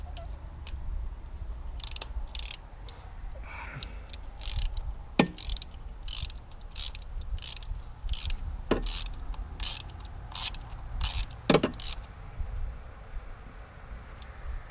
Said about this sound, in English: Back to your ratchet, reverse it.